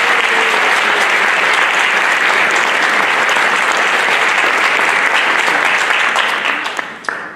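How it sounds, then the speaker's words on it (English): A school choir concert audience applauds steadily and loudly, a dense sustained wash of clapping that tapers and thins out near the end. "let's give them a round of applause"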